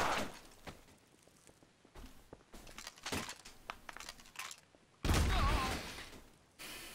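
A small submachine gun fires in a Trouble in Terrorist Town video game match: quiet scattered shots and shuffling, then a sudden louder burst of fire near the end.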